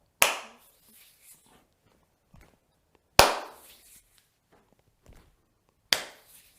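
Three sharp, loud hand claps spaced about three seconds apart during a Qi Gong warm-up, each ringing briefly in a quiet room with faint soft movements between them.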